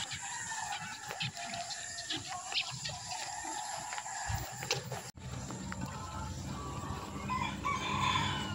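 Chickens cluck and a rooster crows amid a busy outdoor background, the fowl sounds scattered and moderately close.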